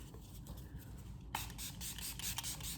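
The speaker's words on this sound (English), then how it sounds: "I'm going to just spray the Milani Make Last Original Natural Finish Setting Spray real quick." Milani Make Last Original Natural Finish Setting Spray misted onto a made-up face: a quiet background gives way to a sudden, sustained airy hiss that continues to the end, close and soft.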